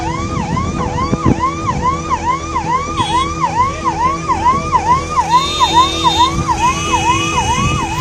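An ambulance siren wails in a rain-flooded traffic jam on a busy Delhi road, its loud rising-and-falling cycles repeating steadily close by, with faint horns and traffic beneath.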